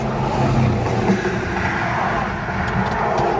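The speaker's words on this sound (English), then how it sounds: "the car was sputtering in and out." A Lexus ES300 with an engine fault sputters along at low speed near a bridge, a steady rough rumble of engine and road noise that holds fairly loud throughout with no one talking.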